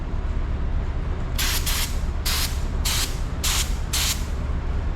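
A Walmart Hart spray gun sprays with its fan wide open, letting out five short, sharp hissing bursts in quick succession, loud and close over a constant airy background rush.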